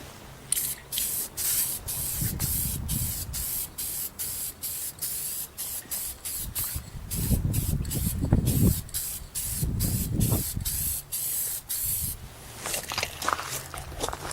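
Aerosol clear coat sprayed in light misting passes over a sanded headlight lens, giving a series of hissing bursts with short pauses between them, close and fairly loud, and no one talking.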